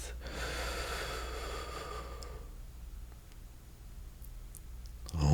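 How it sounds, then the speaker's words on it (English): A single deep, slow breath is taken during a guided breathing exercise, heard as a soft, close airy rush that fades into quiet. "Last one, super deep breath."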